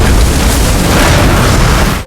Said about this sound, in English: an explosion occurred.